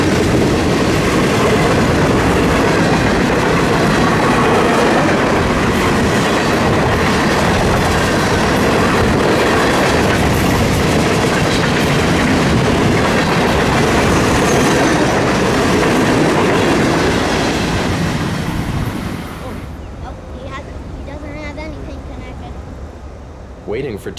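A Florida East Coast intermodal freight train with mixed freight cars rolls past close by, a loud continuous rumble of wheels clattering on rails that drops away abruptly as the last cars clear.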